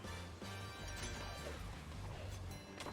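A box shatters in the video game Speed Runners, a quiet crash and a few sharp knocks sitting over the game's steady background music.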